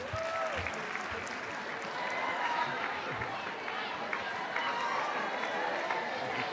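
Audience applause at a live comedy talk show, a steady sustained clapping from a crowd that continues throughout at moderate loudness with faint cheering mixed in.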